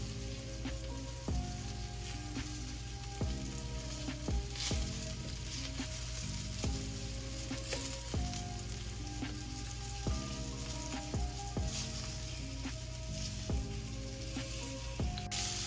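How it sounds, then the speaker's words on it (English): Shrimp fry in shallow oil at the edge of a pan, giving a constant close sizzle and crackle with scattered sharp pops, while low tonal music plays beneath. "So I placed the shrimp on the edge of the pan because that's where most of the oil is."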